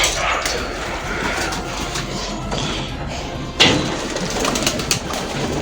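Pigeons returning to their house to be fed coo faintly beneath a steady wash of broadband noise, with a single sharp knock partway through.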